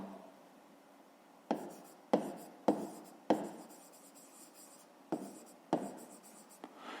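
A pen writes by hand on paper in a handful of short, crisp scratching strokes spaced a second or so apart, close and quiet, with no voices.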